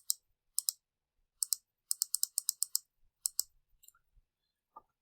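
A computer mouse clicks on-screen buttons in crisp, close bursts, some single and some in quick runs of several clicks, separated by brief silences.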